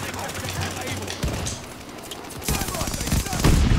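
Rapid automatic gunfire from Call of Duty Vanguard, loud and continuous bursts of shots with a few heavier impacts, close and dense throughout, with game effects layered underneath.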